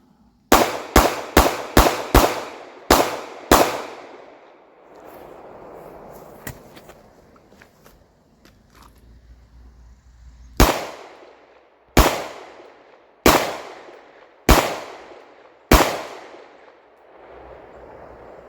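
Series of sharp, loud gunshots from a .38 snub-nosed revolver used as a backup gun, a rapid string of about seven shots, a pause, then five more evenly spaced reports.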